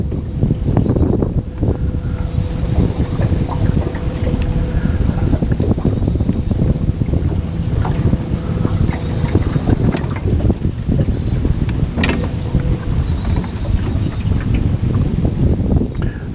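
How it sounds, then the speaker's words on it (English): Cold north wind buffets the microphone on open water during a fishing outing, a steady loud rumble with gusty bursts and a faint bird call in the distance. "Winds out of the north."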